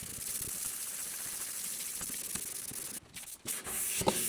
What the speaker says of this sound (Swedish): jag tänkte jag börjar slipa lite och så ser vi topparna